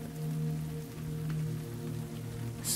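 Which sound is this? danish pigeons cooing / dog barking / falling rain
falling rain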